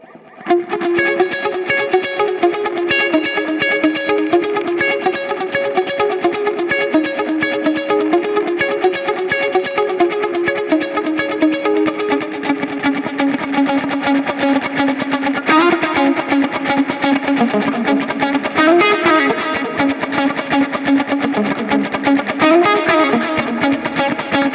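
Electric guitar played through a Strymon Volante tape delay, its notes repeating in rhythmic, atmospheric echoes with a slightly driven edge, sustained and layered throughout.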